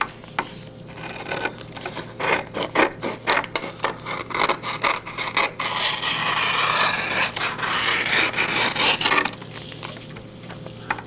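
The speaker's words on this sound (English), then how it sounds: "we've finished trimming up all of our transfers" Heat press transfer sheets printed on a solvent printer cutter are trimmed by hand, giving close rhythmic scraping and rubbing strokes. A steadier stretch of friction noise sits in the middle, and no one speaks.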